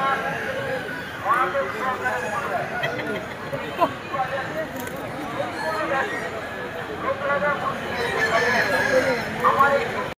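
Chickens and roosters at the Poradi poultry market, with a rooster crowing and hens clucking close by amid continuous crowd chatter and people talking.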